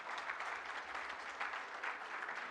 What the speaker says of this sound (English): Let's welcome him with a round applause, please.